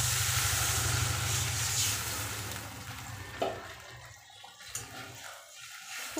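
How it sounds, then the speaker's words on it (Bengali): Water pours into a pan of well-fried masala for an egg curry, a gurgling rush that starts out loud and steady, then thins into a few faint splashes and clinks. "এবার আমি জল দিয়ে দেব"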